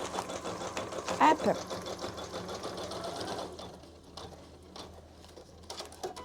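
Janome Memory Craft 1000 embroidery machine stitching at a fast, steady whirring rhythm, close and prominent, before it stops and leaves quieter handling sounds; a single brief word is spoken.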